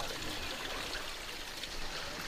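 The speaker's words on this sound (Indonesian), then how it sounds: "Jadi nggak ada keran ya? Jadi Ngalir terus." Water running nonstop through an open village latrine with no tap or cover, a steady faint trickling and splashing flow that stays even throughout with no voices over it.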